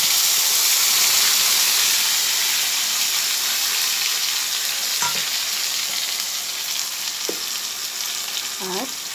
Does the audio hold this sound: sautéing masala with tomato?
yes